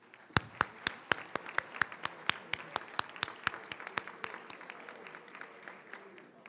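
Crisp, evenly spaced claps ring out close by at an award dinner honoring sponsors, with a thinner spread of applause behind them that fades toward the end.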